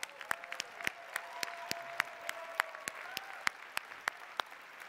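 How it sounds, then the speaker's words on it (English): Audience applause for a newly promoted executive at a recognition event: light, scattered claps ring out one after another at a steady pace, with a faint sustained tone underneath. "let's give him a big round of applause."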